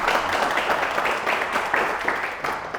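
An audience at a mayoral candidate debate in Pocheon claps for the candidate, a short burst of dense, moderately loud applause with a few uneven swells.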